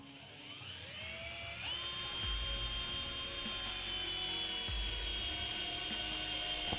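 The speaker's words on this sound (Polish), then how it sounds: "W tym celu przeprowadzę standardową serię testów wkręcania oraz wiercenia" A Parkside PBSA 12 D2 cordless drill driver whines as its motor spins up, rising to a steady high pitch with load changes while driving screws into wood, with low thumps as it bites; loud, close and continuous.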